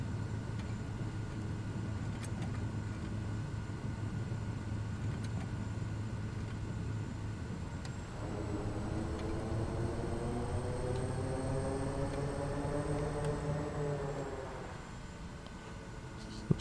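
A Simworks Studios Kodiak 100 single-engine turboprop taxis in Microsoft Flight Simulator 2020, a steady engine drone and hiss with a rising whine partway through, continuous and fairly close.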